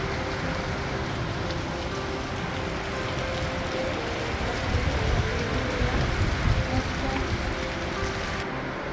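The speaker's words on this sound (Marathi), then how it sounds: "बाहेर चालू झालेला आहे जोराचा पाऊस." Heavy rain pours down outside a homestead near a beach during a power blackout, a steady dense hiss of falling water that swells slightly midway.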